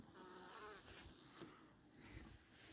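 Honey bees hum at a wintering beehive, a soft continuous drone of many insects close up, faint and steady with slight swells and no talking.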